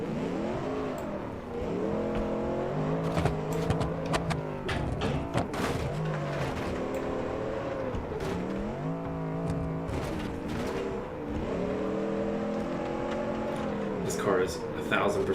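Car engine in a driving video game revving and shifting through gears, rising and falling whines repeating over several bursts, loud and close, with someone talking over it at times.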